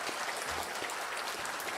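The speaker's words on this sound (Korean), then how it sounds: "한번 격려의 박수를 하도록 하겠습니다" A church congregation claps steadily during a Sunday worship service, a dense, even patter of applause throughout.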